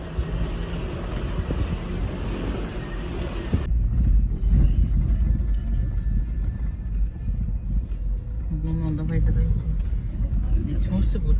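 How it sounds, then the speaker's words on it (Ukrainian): Heavy road traffic with many cars passing, a continuous loud low rumble of engines and tyres, with voices talking over it. "Дуже багато машин."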